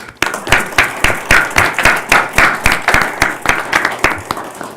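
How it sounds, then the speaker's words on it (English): Dispatchers are honoured at a county board of commissioners meeting with close, loud clapping from a small group, forming a quick, rhythmic run of sharp claps that carries on steadily throughout. "I think they all deserve a round of applause."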